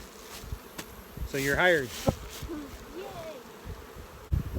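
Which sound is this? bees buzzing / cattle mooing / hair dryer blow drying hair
bees buzzing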